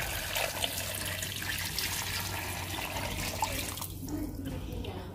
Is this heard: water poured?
yes